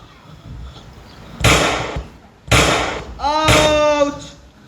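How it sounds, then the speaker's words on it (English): Three loud, sharp stage sound-effect gunshot bangs during a school play, spaced about a second apart, the last followed by a ringing, whistling tail; no one speaks. "Gunshots in the library."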